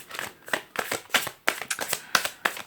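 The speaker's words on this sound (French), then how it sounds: "Je vais tirer une dernière carte là-dessus." A final tarot card drawn from the deck in a tarot reading, with a quick series of crisp card slaps and shuffling flicks, close and fairly quiet, in an irregular rhythm.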